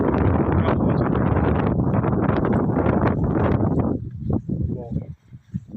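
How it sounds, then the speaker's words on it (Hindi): Wind blows outdoors in a park, buffeting the microphone with a loud, rushing roar for about four seconds before easing into fainter, uneven gusts. "तो कमाल की हवा चल रही है, बहुत ज़्यादा फ्रेशनेस फील हो रही है।"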